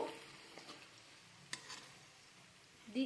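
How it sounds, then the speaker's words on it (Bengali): Chopped onions lightly frying in a pan for a katla fish kalia, a soft steady sizzle with occasional stirring scrapes and taps, close but quiet, with no talk. "একটাকে আমি কুচিয়ে নিয়েছি হালকা করে একটু ভেজে নেব হালকা করে পেঁয়াজটাকে ভেজে নেব"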